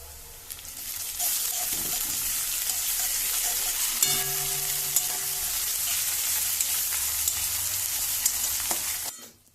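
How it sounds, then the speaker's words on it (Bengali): Onions and ginger garlic paste sizzle loudly in a frying pan while being stirred, a dense continuous hiss with scraping strokes that cuts off abruptly near the end, and no voices. "এবার আদা রসুনের পেস্টটা আমি দিয়ে আবার একবার ভালোভাবে নাড়াচাড়া করে নেব"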